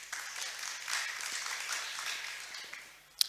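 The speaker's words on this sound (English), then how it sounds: "Ladies and gentlemen, please clap your hands once again for Dr." Audience at a sustainability summit applauding, a dense, steady wash of many hands clapping that swells slightly then tapers, ending with a sharp close knock.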